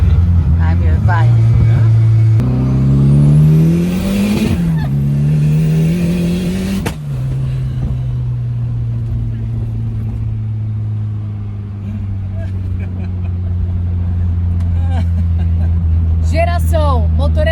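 A Volkswagen Gol running on ethanol revs up in a few swelling pulls, its pitch climbing and falling before settling into a steady close idle, with people talking over it.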